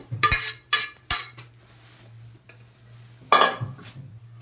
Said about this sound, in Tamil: இது நல்லா அந்த ஆயிலில் வந்து இந்த மட்டன் வந்து நல்லா மிக்ஸ் ஆகட்டும்.